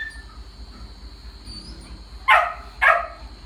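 Two sharp dog barks, a short pause apart, ring out near the end over a quiet background hum, with no talking.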